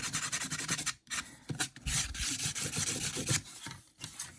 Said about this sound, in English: with some Tamiya sandpaper and just clean these corners a little bit